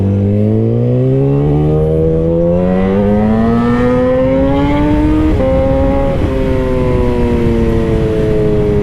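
Yamaha R6 sport motorcycle engine revving, a loud rising whine that climbs steadily in pitch over several seconds, then holds high with brief dips at gear shifts, close and alone.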